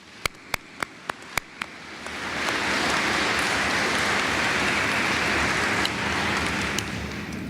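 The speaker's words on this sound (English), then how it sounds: "Let's give them all a round of applause." Audience applause at a press conference introducing a new athletic director at the University of Illinois, starting after a few sharp clicks and swelling into steady, sustained clapping from a sizable crowd that carries on loudly to the end.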